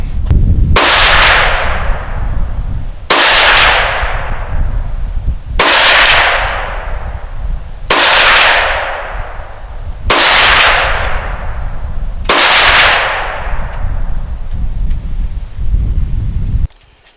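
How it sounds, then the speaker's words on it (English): Six loud, sharp gunshots from a Kel-Tec CMR-30 16-inch carbine loaded with Hornady 30-grain V-MAX, fired outdoors at a 100-yard target. The shots come about two seconds apart, each with a ringing tail and some wind noise, and no speech. "I'm gonna shoot a couple groups out at 100 yards"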